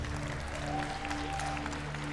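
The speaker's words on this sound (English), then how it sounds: "Give us a round of applause in anticipation." Audience at a national arts and culture awards ceremony applauding in anticipation of an award, a short burst of steady, moderately distant clapping with a faint tonal hum underneath.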